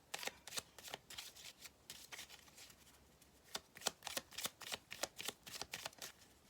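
Lenormand fortune-telling cards being shuffled by hand, with close, crisp riffling bursts in a quick, uneven rhythm and short pauses between them. No one speaks.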